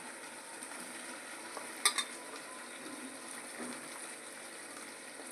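Pabda fish coated in turmeric and salt frying in a pan, a steady hiss of hot oil with a couple of brief sharp pops, no voices.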